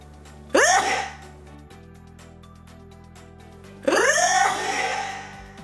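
A person sneezes twice while keeping their eyes open, each sneeze a loud, close burst with a sharp breathy onset trailing into a voiced tail, separated by a few seconds of quiet room.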